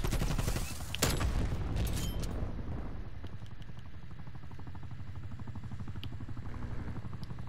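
A helicopter in Call of Duty: Black Ops Cold War gives a steady rhythmic rotor chop after a burst of heavy gunfire and explosions at the start, holding continuously to the end.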